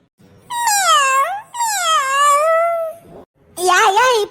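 A cartoon cat gives three loud, drawn-out meows close by. The first two wail and bend in pitch, then a short gap comes before a quicker, wavering third.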